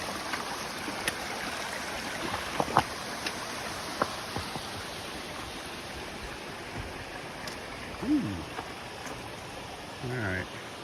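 Soft, steady babble of a creek flowing beside the Appalachian Trail in Shenandoah National Park, with scattered clicks and footstep-like knocks and brief voices over the water.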